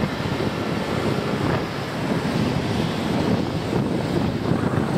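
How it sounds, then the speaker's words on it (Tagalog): Steady, loud headwind buffeting the microphone in a continuous low roar on a road trip, with gusty swells and no voices. "napakalakas ng hangin, headwind, salubong sa amin yung hangin"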